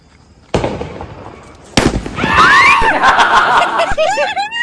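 Firecrackers go off close by during Diwali celebrations: a few sharp bangs, then a louder burst of crackling and whistling fireworks, mixed with laughter and excited voices.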